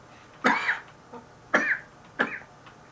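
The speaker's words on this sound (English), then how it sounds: "Tried to breathe and cough at the same time." Three separate bursts of coughing and throat clearing from one person, fairly close and loud, with short quiet gaps between them and no talk, during a casual Dragon Age Origins gaming session.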